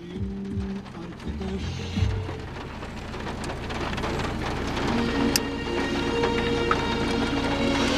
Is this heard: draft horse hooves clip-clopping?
no